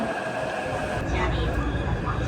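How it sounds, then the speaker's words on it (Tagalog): A Taipei metro train pulls into a station, its rumble and rising whir loud and close under a person talking. "Narito na po yung tren."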